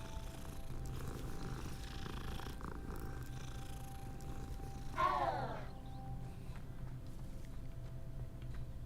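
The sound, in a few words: cat purring while being petted in video game Hogwarts Legacy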